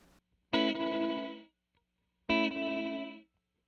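Two separate chorded bursts pass through an Eventide Ultratap delay with feedback turned fully down, each ringing about a second with a shimmering, modulated tail that stops cleanly into silence between them.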